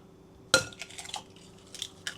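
An egg cracked against a bowl while making salmon patties, one sharp clink followed by several soft, faint taps and clicks, close and quiet.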